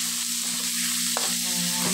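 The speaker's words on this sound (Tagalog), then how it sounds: "Prito, ipaluto muna natin yung ating giniling." Ground meat frying with garlic and onion in a pan for a vegetable dish, a steady close sizzle running throughout with a brief utensil clink near the middle and no voices.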